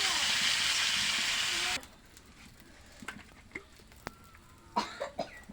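Tilapia fish frying crisp in hot oil, a loud steady sizzle that cuts off abruptly and gives way to quiet scattered clinks and faint pops.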